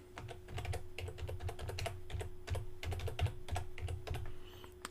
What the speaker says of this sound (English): I'm going to type it this time instead of copying and paste it.